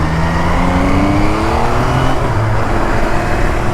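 An MV Agusta Rivale 800 motorcycle engine accelerates, loud and close, with a continuous throaty roar and rising engine tones as it pulls through the revs, with no talking.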